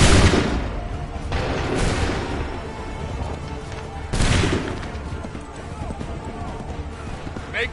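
A musket volley in Assassin's Creed 3, with loud, broad gunfire crashes at the start, near two seconds and again past four seconds, then a rumbling battlefield din and faint voices.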